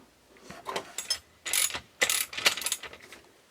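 A ratchet tightening a bolt on a trailer brake actuator for a 2009 Ranger boat trailer, several bursts of rapid metallic clicking separated by short pauses, close and clear with no speech.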